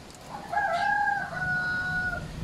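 A Brahma Isabela rooster crows once, a clear drawn-out call rising and holding, with faint hen clucking around it.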